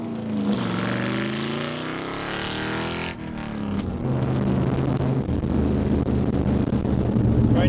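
A Corvette with a transplanted V8 and freer-flowing mufflers drives by, its engine note rising and falling loudly, then settling into a steady, strong rumble while cruising, with no talking.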